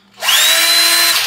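A Makita HP330D cordless drill spins up after a no-spin repair, giving one steady high-pitched whine for about a second, close and loud, with no talk.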